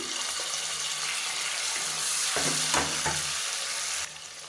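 Onions sautéing in a pan while tomato rice is made, a steady close sizzle and frying hiss with a few stirring scrapes, no voices.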